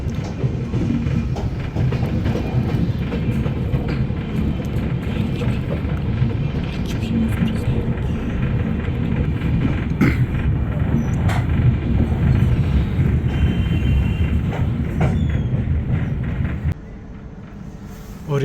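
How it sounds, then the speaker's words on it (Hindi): An Indian Rajdhani Express train crosses the Lichchhavi Express, with continuous loud rumbling and rattling of passing coaches and rail clatter for most of the run, then dropping abruptly quieter near the end. "और शायद से ये लिच्छवी एक्सप्रेस से हमारी क्रॉसिंग हो रही है, जो कि सीतामढ़ी से आनंद विहार के बीच में चलती है।"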